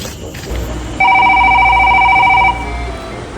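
A phone call is placed, with a steady electronic two-tone signal lasting about a second and a half over faint background noise, close and clear.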